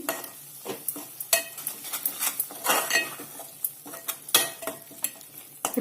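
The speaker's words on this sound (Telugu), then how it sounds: "ఇప్పుడంతా కలిపేయండి" Chili powder and spices being stirred into cashew paneer curry in a pan: repeated close scraping and clattering strokes of a spoon against metal, with a light sizzle underneath and no talk.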